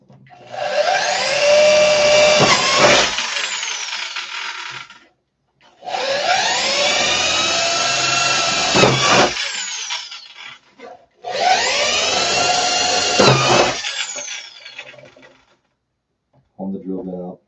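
A power drill bores into skateboard deck wood in three long, loud whining bursts of about four seconds each, separated by short pauses, with a brief fourth burst at the end.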